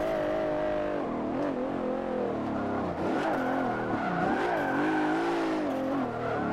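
Luxury SUV drifting on the e-brake in Forza Motorsport 7: a loud engine revving and wavering in pitch as tires squeal through the slide, continuous and close.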